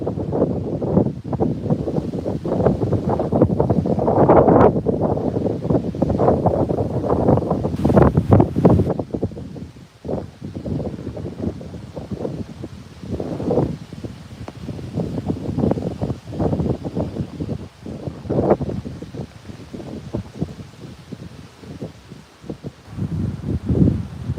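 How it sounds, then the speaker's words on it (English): Strong wind buffets the microphone in loud, rumbling gusts that rise and fall for the whole stretch, with no one speaking. "It is so friggin' windy."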